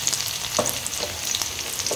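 Garlic and dried red chillies tempered in hot oil in a small kadai, giving a close, crackling sizzle with bright spits and short stirring scrapes over a constant frying hiss.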